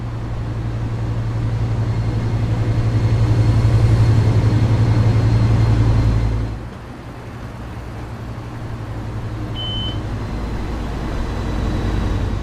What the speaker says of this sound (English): the diesel engine on this thing does sound pretty legit